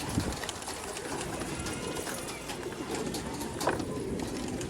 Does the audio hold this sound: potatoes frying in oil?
no